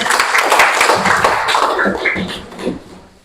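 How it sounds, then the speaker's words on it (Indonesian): A school class applauding a student group after its presentation, a dense burst of many hands clapping close by that gradually thins and fades over a few seconds. "tepuk tangan untuk kelompok si Rafael"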